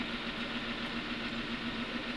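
A diesel car engine runs outside a vehicle, idling with a steady, even drone and a faint low hum, moderately quiet and uninterrupted with no talk.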